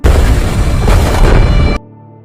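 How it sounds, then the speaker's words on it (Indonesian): A car blows up after its brakes give out, a loud, dense blast roaring across the whole range for nearly two seconds before cutting off to a quiet low hum, heard without any talk. "Remnya blong dan akhirnya mobil tersebut meledak."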